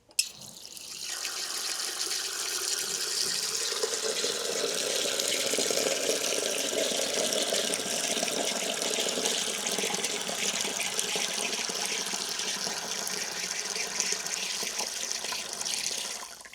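Hot water runs steadily from a tap to dissolve fertilizer, a continuous loud hiss and splash lasting the whole stretch after an abrupt start, with no voices.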